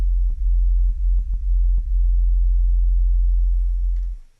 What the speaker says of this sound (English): the bass, which is here, it's just an 808